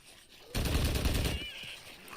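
Gunfire in the video game A Quiet Place: The Road Ahead bursts out loudly in a dense rapid volley for about a second, then trails off into a softer tail.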